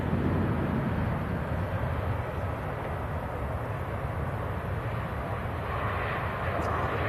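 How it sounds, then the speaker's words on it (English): A Ryanair airliner touches down at Manchester Airport, its engines a steady distant rumble and hiss that holds evenly throughout, moderately faint with no clear voices over it. "Mr. Ryanair about to touch down."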